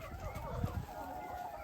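A flock of about 500 laying hens on a mountain farm clucks in a continuous, faint, distant chatter, with a couple of louder low calls standing out briefly.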